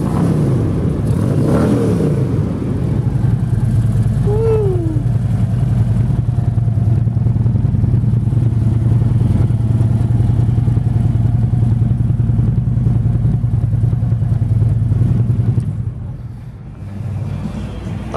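A 2011 Road Glide Custom motorcycle engine runs close and loud at a steady, lumpy idle, with a couple of brief throttle blips early on before the engine drops off near the end.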